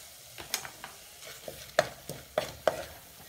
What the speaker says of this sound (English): Our spices have fried for 1 minute.